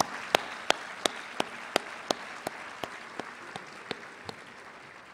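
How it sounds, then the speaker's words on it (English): Slow, evenly spaced single claps, about a dozen, fairly faint against a quiet room at a conservation group's breakfast event, fading slightly toward the end. "Let's give her a huge round of applause for today."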